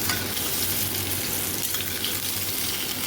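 Vegetables with salt, turmeric, sugar and asafoetida stirred as they fry in a pan, a steady loud sizzle with soft stirring movement, close and uninterrupted, no speech.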